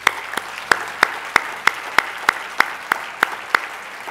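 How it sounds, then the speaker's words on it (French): Audience applause at a talk by a survivor of seven cancers: sharp, separate claps fall in a steady, even rhythm about three times a second, clear against a quiet room with no voices. "donner une belle main d'applaudissement à tout ce beau monde-là"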